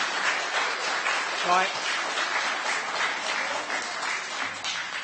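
Applause from the public gallery at a planning committee meeting in Coxheath, a dense, sustained patter of clapping with a brief spoken word over it.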